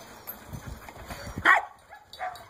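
A puppy named in the setting barks with a few sharp yips and yelps near a fence outdoors, bursts standing out in the middle and end of the short stretch, fairly close and moderately loud.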